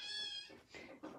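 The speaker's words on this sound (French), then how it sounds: "Les chats répondent." Cats meow in a live indoor setting: one long tonal meow followed by two shorter, rougher calls, moderately close and fairly quiet.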